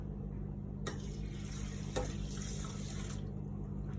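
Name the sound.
cold tap water poured onto rice in pot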